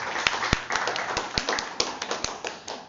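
A small audience at a seminar claps briefly, a scattered patter of separate hand claps close by, uneven in rhythm and thinning out toward the end.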